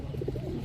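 Black Gorra pigeons, two pairs, give a soft, low, rolling coo close by, brief and steady with no talk over it.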